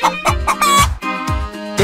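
A toy farm animal sound plays a chicken clucking, a loud, close series of short squawking clucks in quick rhythm with a brief pause midway.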